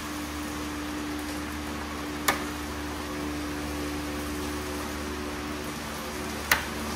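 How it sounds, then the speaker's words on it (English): Steady rain falls outdoors in Pennsylvania during work on a C8 Corvette Z06. It makes an even, constant hiss, with two sharp isolated clicks standing out above it. "it has started to rain in Pennsylvania fashion"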